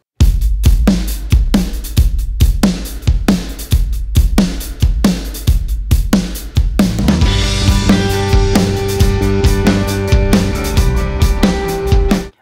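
Drum track reworked with Slate Trigger 2 replacement samples for a tighter, punchier modern sound: steady, hard-hitting kick and snare beats alone, then a fuller groove with cymbals and sustained tones joining partway through.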